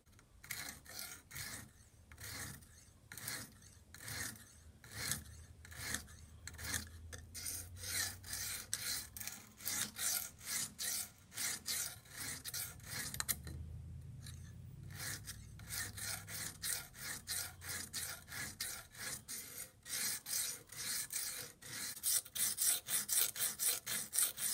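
Knife blade drawn across oiled sharpening stones in steady, repeated rasping strokes, each scrape a short grating burst with brief gaps between, close and fairly quiet with no talk.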